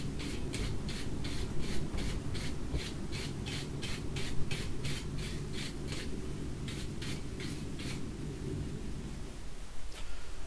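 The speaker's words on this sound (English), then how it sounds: "a really good wire brush now to finish off" A wire brush scrubs flaking scale off a hot forged, twisted piece of metal in fast, steady back-and-forth strokes, with a brief pause before the scraping resumes, all over a low continuous rumble.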